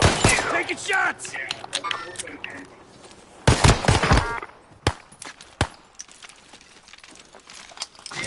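Gunfire in the shooter Warzone, with scattered sharp cracks and short bursts, some close and loud, others quieter and spread out, amid light clatter.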